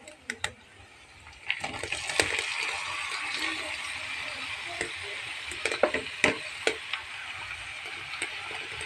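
Chopped snake gourd drops onto browned fried onions in a pan, and a soft sizzle rises after a few light taps. The frying hiss carries on under sharp clicks and scrapes from a spoon stirring against the pan.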